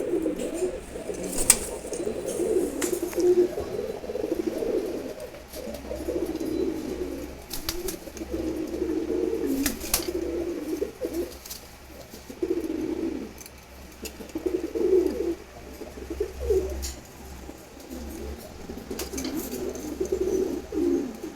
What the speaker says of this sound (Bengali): দেখেন অসাধারণ একটা নর কবুতর